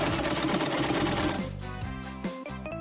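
Sewing machine stitching a seashell shape cut from a plastic folder, a fast rattling needle run that stops partway, followed by softer mechanical clicks and hum.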